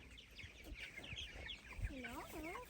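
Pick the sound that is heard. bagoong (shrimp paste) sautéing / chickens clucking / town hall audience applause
chickens clucking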